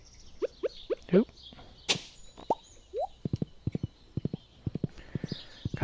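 Horse hooves in the video game Stardew Valley: a string of crisp, close clip-clop beats, sparse and bouncy at first, then a quick even rhythmic run of hoof taps, with a brief swoosh midway.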